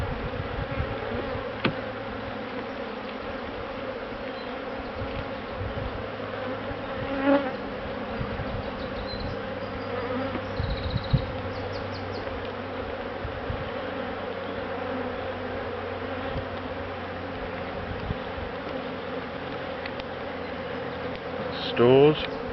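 Honeybees buzz in a steady, dense drone around an open hive whose combs are filled with honey right to the edges. The hum is continuous and close, with a few faint voices in the background.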